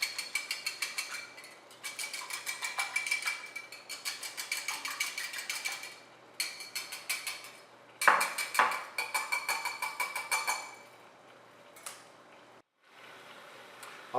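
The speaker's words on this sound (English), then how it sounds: "lightly whisk 2 eggs" Two eggs are whisked lightly in a bowl with a utensil, giving rapid rhythmic clicking and scraping bursts separated by short pauses, close and fairly quiet without speech.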